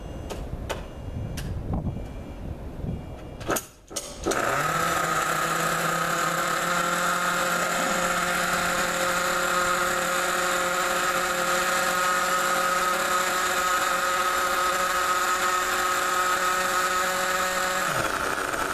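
A gas-powered 1/5 scale RC car engine, started on a park outing with no igniter, sputters through a few brief pops, then catches and runs steadily at a loud, close, sustained idle. It keeps droning evenly until it cuts off near the end.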